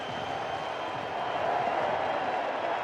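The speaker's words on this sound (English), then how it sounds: "Big crowd, everybody on their feet" A big crowd at a Kansas City Royals vs. Chicago White Sox baseball game, fans on their feet, makes a steady, moderately loud roar of cheering with a swell in the middle.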